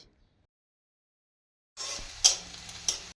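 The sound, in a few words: onions frying in oil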